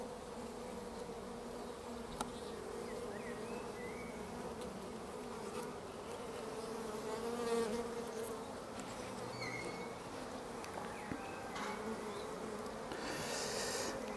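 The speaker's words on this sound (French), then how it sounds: "Les abeilles dessus sont calmes" Honeybees hum steadily around an open hive during an inspection, a soft, continuous buzz with individual bees droning closer now and then, quiet throughout.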